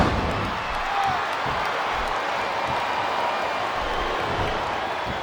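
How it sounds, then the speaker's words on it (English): A wrestling arena crowd in WWE Smackdown vs Raw 2007 produces a steady, dense roar of cheering and murmuring that holds level throughout, with faint claps and whoops mixed into the wash of noise. "This capacity crowd is making their opinions known tonight"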